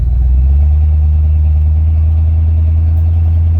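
Steady low rumble of a 1976 Chevy C10 Suburban with a 454 big block and Flowmaster exhaust, idling just off idle, loud and close, mellow and unchanging throughout.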